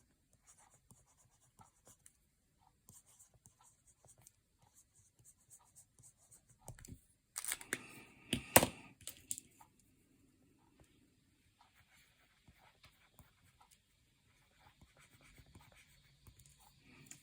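EMR stylus scratching across a Boox e-ink tablet screen: faint, sparse nib strokes, then a brief, busier flurry of close scribbling midway before it settles back to quiet taps and scrapes.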